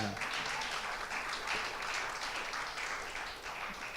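A church congregation applauding the Lord during a Spanish-language service, with continuous dense clapping filling the whole stretch at an even level, broad and steady without pauses.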